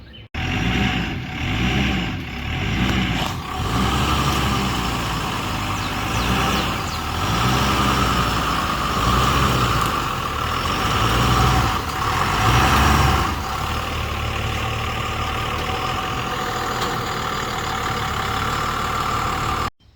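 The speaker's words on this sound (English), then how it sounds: "I want to pull something with my truck" A pickup truck engine idles steadily, a loud low rumble that holds evenly throughout, used for towing work with trailers.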